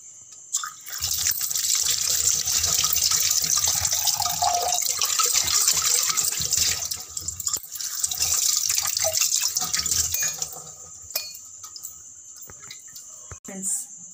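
Running tap water splashing while a coffee glass and kitchen vessels are washed by hand, a loud steady gush for about ten seconds with faint clinks, then trickles and drips after the flow stops.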